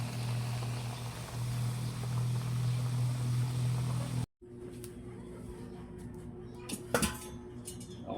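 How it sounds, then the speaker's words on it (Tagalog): Squid goes into a pot on the stove to boil for a butter cream squid dish, with a steady burner roar cutting off sharply into quieter kitchen clatter and a few clinks of cookware. "bali sinalang ko po muna yung pusit at akin po muna ay ang pakukuluan"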